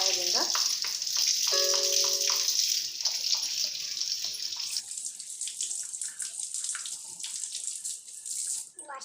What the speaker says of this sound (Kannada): ಸಿಂಕ್ ಹತ್ರ ನೀರು ಆನ್ ಮಾಡ್ಕೊಂಡು ಸ್ವಲ್ಪ ಬ್ರಷ್ ಸಹಾಯದಿಂದ